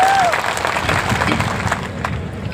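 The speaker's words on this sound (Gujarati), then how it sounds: "બધા માટે એકવાર આપણે જોરદાર તાળીઓ પાડી" Steady applause from a large crowd at an open-air Aam Aadmi Party political rally, a dense continuous wash of clapping with faint babble mixed in throughout.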